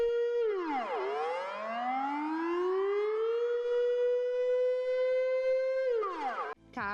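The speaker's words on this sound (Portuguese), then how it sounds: "soa um alarme, onde toda a Holanda consegue treinar, ouvir esse alarme para se proteger" A pole-mounted Dutch civil defense siren built from three stacked discs winds up to a loud, sustained wail, holds a steady tone for several seconds, then drops away near the end.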